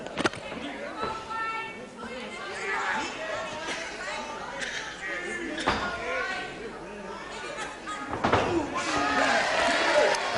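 A capacity crowd at a heavyweight wrestling bout in the Civic Hall, Guildford, keeps up a dense chatter and roar. Sharp slams and smacks ring out from the ring now and then, with the loudest swell toward the end.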